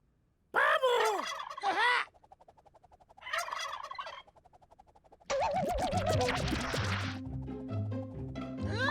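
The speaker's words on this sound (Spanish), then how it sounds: "¡Pavo!" Turkey gobbling in three loud rattling bursts separated by short gaps, the last one longer and mixed with scratchy noise and tones.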